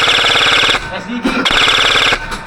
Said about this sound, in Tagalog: Firing above your head.